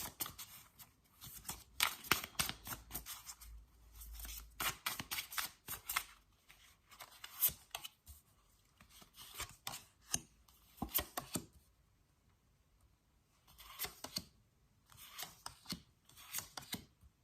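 Tarot cards are shuffled and laid out in long runs of rapid, close riffling and slapping, broken by short pauses and resuming in dense bursts.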